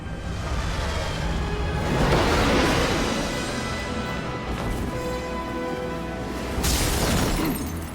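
In the Batman: Arkham Origins video game, Batman crashes through a window and glass shatters loudly, with a sharp burst, scattering debris and a second crash near the end over dense game ambience.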